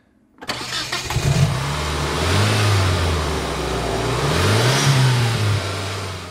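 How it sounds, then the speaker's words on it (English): A sports car engine cranks and catches, then revs up and down in loud sweeping surges before settling, close by with no talking. "Ooh, cranking and revving."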